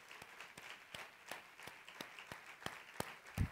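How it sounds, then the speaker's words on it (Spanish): Sparse, fairly faint handclaps at the closing and awards ceremony of the 36th Mar del Plata Film Festival, roughly evenly spaced and heard alone, with no talk over them. "Muy bien los aplausos"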